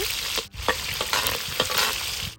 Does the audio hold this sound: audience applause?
no